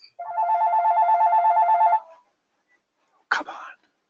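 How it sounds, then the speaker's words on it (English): A telephone rings with a steady electronic trill lasting about two seconds, loud and close, followed after a pause by a brief burst of another sound. "phone is ringing, but if you could mute that,"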